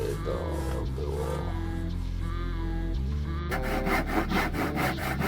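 A handsaw cuts wood pieces for a boat stringer during a retired IOR racing boat refit, with rhythmic rasping back-and-forth strokes close by that grow quicker and harsher toward the end.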